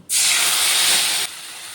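Ground ginger and cumin paste with salt and turmeric hits hot oil over black cumin seeds, a sudden loud close hiss that holds steady for about a second, then cuts down to a faint simmer.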